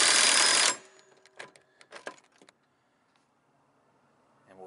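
An impact wrench removes the blade spindle bolts on a riding mower with one short, loud, buzzing burst up close, followed by scattered metallic clicks and handling noises, then near silence.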